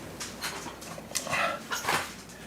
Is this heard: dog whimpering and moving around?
yes